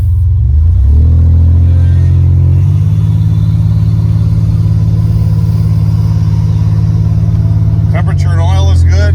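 Buick Grand National with a new engine on its first drive revs up in a loud, close, steady rumble that holds throughout, with a voice briefly heard near the end.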